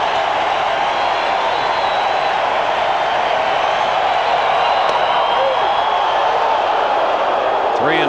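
A large baseball crowd at a 1998 Yankees vs. Mariners game cheers and roars in a steady, loud wash of noise, sustained without a break, with a faint whistle near the end.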